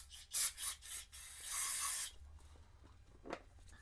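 Cleaner sprayed onto the brake parts of a 1987 Honda GL1200 Goldwing while working on its front master cylinder: a few close rubbing scrapes, then one steady hissing spray burst of about half a second, followed by faint handling noises.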